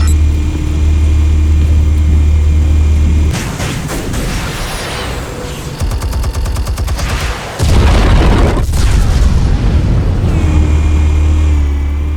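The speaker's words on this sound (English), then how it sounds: "Explosives armed. Fire when ready." Explosives detonating in the Telltale Batman video game, heard as a loud, deep booming blast with rumbling debris, preceded and followed by a steady low engine-like drone, with no talk.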